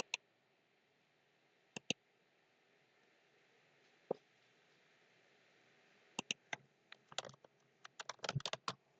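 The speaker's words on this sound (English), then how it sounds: "let's type in our number" A phone number is typed on a computer keyboard in a quiet room: faint, sparse key clicks at first, then a quicker cluster of taps toward the end.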